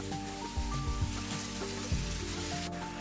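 Chicken pieces being stir-fried in hot oil for Thai basil chicken, a continuous close sizzle and crackle with low clunks of the pan and ladle, no voices.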